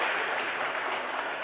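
Brief, warm applause from a church congregation during a Sunday service, a steady crowd clapping that fills the short moment without talk.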